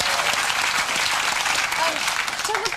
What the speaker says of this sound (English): That's a bloody good round of applause for that, I think.